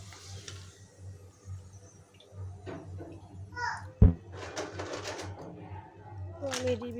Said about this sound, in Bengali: পিঠাগুলো দেখুন কত সুন্দর করে ভাজা হয়ে যাচ্ছে